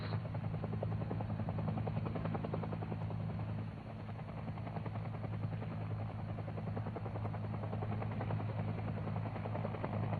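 A UH-1 helicopter sets down at a landing zone to pick up troops, its rotor thumping steadily and loudly beneath a deep engine drone that holds throughout, with a brief slight dip in level partway through.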